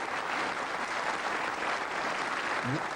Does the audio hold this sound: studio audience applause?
yes